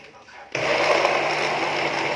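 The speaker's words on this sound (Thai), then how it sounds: "เฮาบ่ใส่น้ำมันก็ปั่นไม่ได้" Blender whirring curry paste ingredients with a little water for sour curry, starting abruptly after a brief quiet moment and then running loud and steady up close.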